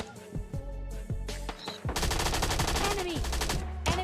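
Rapid automatic gunfire from the PUBG Mobile Lite video game, bursts growing dense and continuous in the second half, loud and close with no talk over it.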